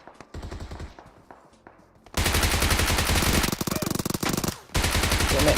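Automatic gunfire in PUBG Mobile: a short burst opens, followed by a quieter pause, then a long loud sustained rapid-fire volley with a brief break before it resumes, close and dominant.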